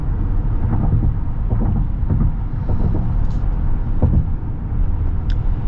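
A 2024 Jeep Grand Wagoneer Obsidian cruising on the highway in aero mode, heard from inside as a steady, loud, low road and engine rumble with faint tyre hiss and occasional small bumps.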